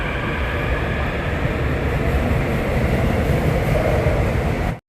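A Suin-Bundang Line subway train rumbles loud and steady from inside the carriage, a continuous roar of wheels on rails that cuts off abruptly at the end.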